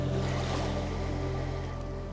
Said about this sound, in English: It might be hard to hear with the waves in the background